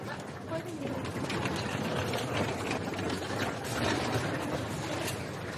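Tourists' rolling suitcases clattering over a Venice street: a steady, gritty rumble of wheels on stone filling the air without pause, mid-distance, with murmured voices mixed in.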